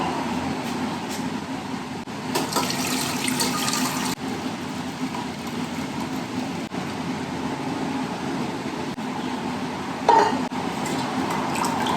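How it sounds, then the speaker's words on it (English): Homemade chicken stock made from chicken bones and vegetable scraps is poured from a pot through a strainer into a smaller pot, giving a steady, close rush of liquid for about ten seconds that ends with a brief splash. "I'm just gonna pour all of that"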